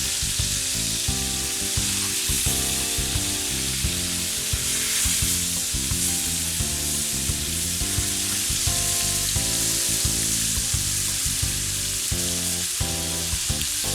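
Beef tenderloin browns in a hot pan with a loud, continuous sizzle and crackle that holds steady, with no voices.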